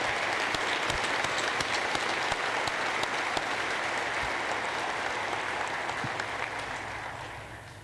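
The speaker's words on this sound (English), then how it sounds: "Can we have a quick round of applause for our faculty, staff, and administrators in the DCBA?" Steady applause from a commencement crowd honoring faculty, staff and administrators of a business administration college, sustained and dense for the full stretch before slowly tapering off near the end.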